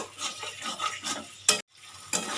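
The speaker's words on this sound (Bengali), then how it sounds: "ঝিঙেটা দিয়ে একটু কষিয়ে নেব" Ridge gourd is sautéed in a pan of oily gravy, with a series of rhythmic stirring scrapes over a soft sizzle, one sharper clatter, a brief pause, then more stirring.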